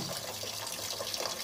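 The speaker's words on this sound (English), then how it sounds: "pour tap water" Tap water pours into a cooking pot in a home kitchen, a steady, even splashing stream running continuously at close range with no talking.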